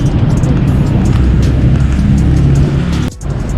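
Cars stream past in dense Tehran street traffic, close and loud. A continuous engine and tire rumble fills the whole clip and dips briefly near the end.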